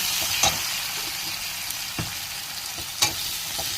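Onions sizzle and crackle in a hot pan with a steady frying hiss, broken by a few sharp scraping stirs of a spatula.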